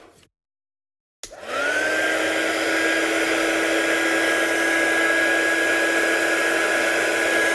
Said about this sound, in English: I'm just going to just dry that off with the heat gun now.